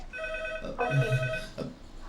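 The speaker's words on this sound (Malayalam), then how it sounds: "സാറേ ഫോൺ." A telephone rings with a steady electronic bell tone across the whole clip, while a voice calls out briefly partway through.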